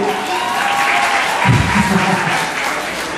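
Crowd applause and cheering for performing artists at the opening of a live show fill the space, steady and fairly loud for the whole stretch, with a swell of louder voices near the middle.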